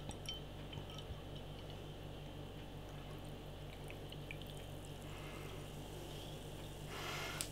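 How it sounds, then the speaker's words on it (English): Red Rock Craft Pilsner beer poured from a bottle into a glass, a steady close trickle and fizz running continuously and swelling slightly toward the end. "Let's get this beer out into a glass and see what we get."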